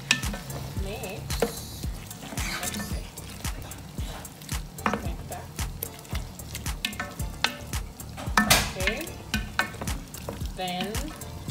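Chicken with yellow bell peppers and onions stirred in a sizzling pan, spoon scraping and clinking in irregular bursts over a steady frying hiss.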